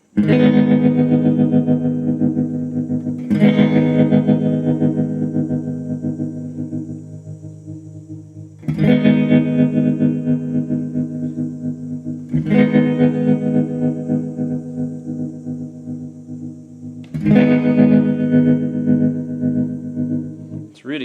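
Electric guitar chords played through a JK Pedals Baby Doll Deluxe tremolo pedal with a darker tone setting, the pulsing pattern shifting in speed; five loud strummed chords ring out and decay in turn, alone.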